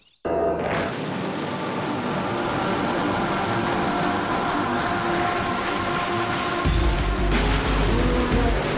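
Drag racing cars thunder at the Abu Dhabi Drag Racing Festival, a loud sustained engine roar filling the air that swells even louder near the end.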